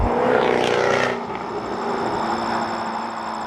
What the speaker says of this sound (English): The sound of this V8 is amazing.